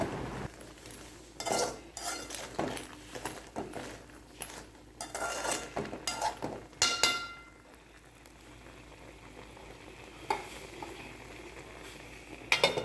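A spoon or ladle scrapes and clinks against a pan while crab roast masala simmers with coconut milk, irregular metallic knocks and stirring scrapes, close and moderately loud, with no talking.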